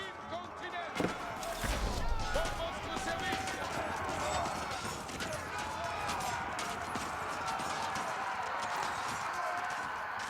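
Norman cavalry horses gallop during the Battle of Hastings in Age of Empires 4, with a dense, steady clatter of hooves mixed into continuous battle noise and a heavier thump near the start.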